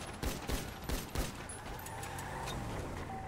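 Gunfire aimed at a car's tire during a street patrol confrontation, a rapid burst of four or five sharp, loud shots in close succession, then a steady vehicle rumble.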